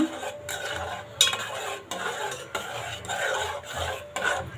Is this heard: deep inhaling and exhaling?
no